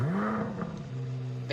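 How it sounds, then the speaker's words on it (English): A Chevrolet Corvette Z06 sports car engine in the video game Driving Empire revs up with a rising whine, then drops back to a steady droning idle, loud and close. "The car is supposed to sound like a Ferrari."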